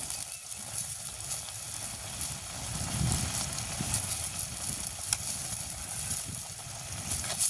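Spiced village-style curry with brinjal being stirred in a pan, a steady close sizzle with soft scraping and stirring movements running throughout, no talking.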